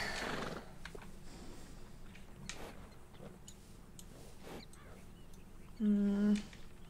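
A horse in Red Dead Redemption 2 lets out a short, loud whinny near the end, preceded by soft hoof knocks and ambient stable noise.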